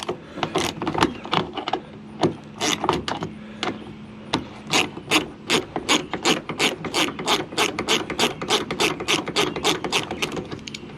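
A hand ratchet backs out a 10 millimeter bolt from a Toyota Highlander door trim, making rapid, sharp, close clicking in uneven bursts that settle into a steady fast rhythm, loud and alone.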